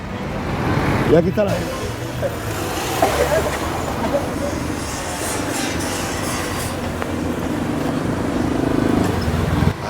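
Busy street traffic in Marrakech's Kasbah district near a zebra crossing, with cars ahead and behind: a steady, fairly loud wash of engines and passing vehicles, with people talking over it.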